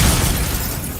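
Fire spell Incendio cast in Hogwarts Legacy, a dense, continuous roaring blast of flame that stays loud and full through its whole second, heavy in low rumble.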